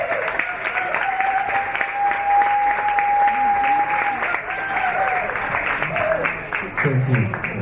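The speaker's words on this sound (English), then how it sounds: "Let's have a warm round of applause for our mighty warrior" Warm, sustained applause from an audience at a community gathering in Mullumbimby welcoming John Shipton, steady and fairly loud, with a few faint voices and a brief whistle-like tone mixed into the clapping.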